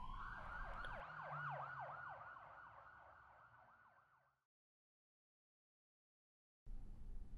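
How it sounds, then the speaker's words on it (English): A video game ambulance siren wails, sweeping up and down repeatedly, loud at first then fading out into silence before a sudden burst of noise returns. "No, I hear an ambulance."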